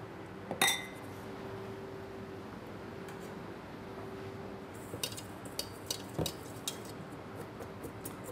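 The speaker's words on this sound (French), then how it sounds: "on va mélanger donc ces trois éléments secs" Dry icing sugar, flour and almond powder stirred together in a bowl for blueberry financiers, with a sharp clink early on and soft scattered taps and scrapes of utensil against the bowl.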